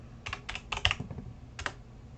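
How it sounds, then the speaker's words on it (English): Rapid keystrokes on a computer keyboard as a command is entered in drawing software, heard close in three or four quick bursts with a longer pause before a final short run, with no talking. "we just need to insert the hatch command by just simply typing in hatch"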